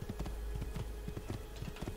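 Horse hooves clip-clopping in Assassin's Creed 2, a steady run of fairly close hoofbeats over a constant low rumble of game ambience.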